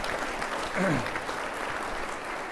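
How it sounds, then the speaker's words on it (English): A round of applause at a precinct commissioner's address honors superintendents and educators, a steady broadband wash of clapping from an indoor audience lasting a couple of seconds, with a brief voice-like tone rising partway through. "let's give all the superintendents, all the educators that are here, let's give them a nice round of applause"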